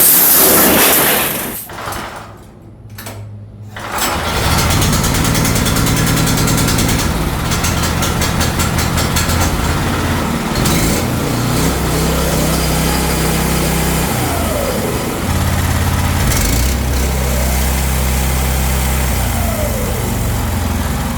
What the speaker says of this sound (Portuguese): Já vimos que o motor tá funcionando